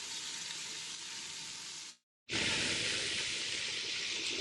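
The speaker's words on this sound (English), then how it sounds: "we're just browning this meat up" Chorizo and beef browning in a Ninja Foodi, a steady loud sizzle that drops out briefly for a moment, then resumes just as strongly.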